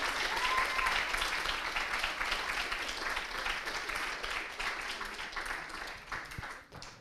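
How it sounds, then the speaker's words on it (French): An audience at the finale of an eloquence contest in Le Mans applauds a candidate as she arrives. The clapping is dense, loud and steady for about seven seconds, then thins slightly toward the end. "Tiens, on va applaudir Sandrella qui arrive, voilà."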